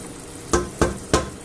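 Carrots are stirred into a pot of homemade meatball stew, making three separate soft scraping strokes at an even pace, close and fairly quiet against a faint background hum.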